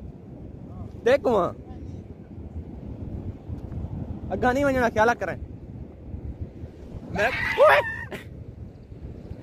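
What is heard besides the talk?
loud rushing river water at Taunsa Barrage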